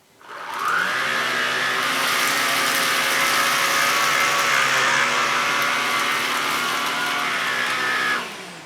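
A Bosch Athlet Pro Animal cordless upright vacuum cleaner running on setting 2 with suction only, brush off, starting up to a steady loud whirring hum for several seconds before winding down.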